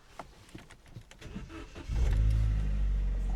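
A Vauxhall Corsa 1.2 petrol engine catches and fires up after a head gasket repair, a brief crank giving way at once to a loud, steady idle rumble up close.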